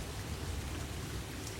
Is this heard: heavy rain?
yes